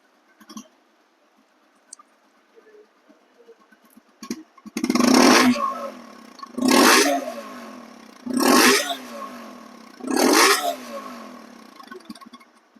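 A used TVS Apache RTR 160 2V motorcycle engine starts on the self-starter and revs hard four times in a row, each burst a roaring rise and fall about two seconds apart, close up after a quiet idle.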